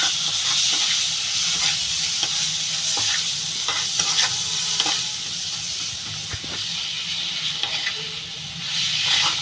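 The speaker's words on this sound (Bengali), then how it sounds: "এবার আমি মশলাটা ভালো করে কষাবো" Turmeric, chili, cumin and coriander powders sauté in oil as masala for a tilapia curry, giving a loud, steady sizzle and hiss with frequent spatula scrapes while being stirred, and no voices.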